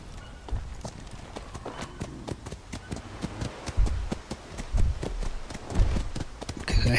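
A horse's hooves clip-clop steadily at a walk in the ATLAS survival game, a loaded mount slowed by heavy cargo, with close, even, repeated hoof taps and no talk.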